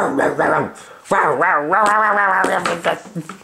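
A person's voice mimicking a dog, drawn-out whiny barks and a low growling howl, close and expressive, during a reading of Peter Pan.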